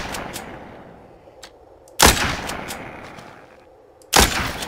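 Gunfire in The Walking Zombie 2 video game: two loud, sharp shots roughly two seconds apart, each ringing out with a decaying tail, preceded by a few faint distant pops.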